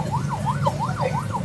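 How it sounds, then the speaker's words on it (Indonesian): Fire truck sirens wail, rising and falling in a steady, repeating sweep over low traffic rumble, several cycles in quick succession, as trucks arrive at a market fire in Kemayoran, Central Jakarta. "Ini banyak mobil pemadam kebakaran yang berdatangan"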